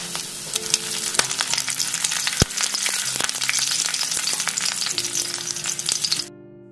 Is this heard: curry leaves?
yes